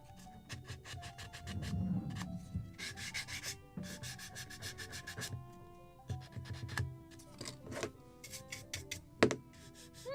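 A small wooden part for a Midwest kit model of a Muscongus Bay lobster smack is sanded by hand in close, steady back-and-forth rasping strokes, with brief pauses and some light handling noise.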